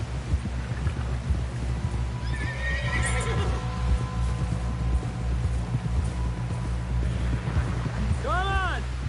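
In Red Dead Redemption 2, a horse's hooves clip-clop over ground beneath a low ambient rumble, then the horse lets out a clear, close whinny near the end, with voices talking in the scene.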